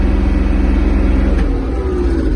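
Yanmar EG-230 Japanese mini tractor pulling away in first gear, a steady low diesel drone with a faint rising tone, close and continuous with no talking.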